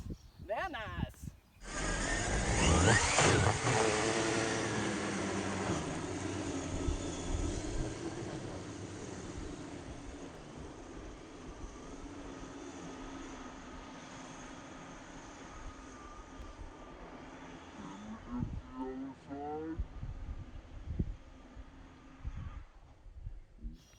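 A Traxxas X-Maxx RC car skims across water, its high motor whine rising loud at the start then holding steady with splashing, while people talk and exclaim over it.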